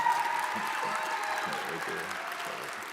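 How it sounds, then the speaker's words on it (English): A crowd applauds first place winners at a live event, steady clapping holding at an even level throughout, with a faint background tone running beneath it. "Give them a round of applause."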